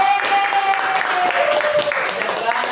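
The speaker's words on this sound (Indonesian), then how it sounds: "kita tepuk tangan dulu buat kita semua" Class of students clapping together at the end of a lesson, a short stretch of irregular hand claps with a voice and a tonal hum underneath.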